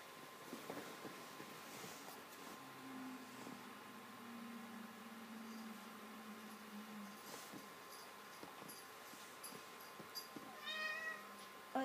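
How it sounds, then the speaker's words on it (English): A hungry house cat meows repeatedly in the background, faint and somewhat distant, over steady low room noise with occasional clicks. "That's my cat wanting food."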